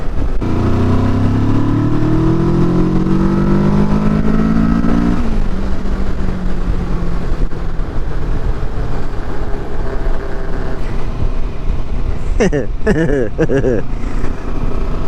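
Steady roar of a Kawasaki Versys motorcycle engine with heavy wind rush on Cornish coast roads, the pitch rising and falling as it rides, a voice briefly heard near the end.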